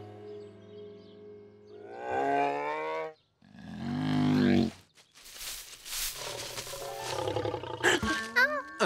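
Cartoon bear roaring, a loud growling roar in two bursts over roughly two seconds, followed by noisier scuffling sounds and faint squeaky vocal bits.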